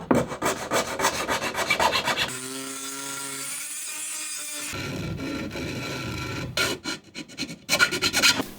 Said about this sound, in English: I opened up the glue lines slightly with the multi-tool, then softened the edges using a hacksaw blade and a small file.